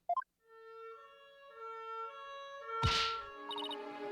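Electronic siren from the video game Ace Attorney: Spirit of Justice, a sustained harmonic wail that rises and holds, with a sharp thump landing partway through and no voices.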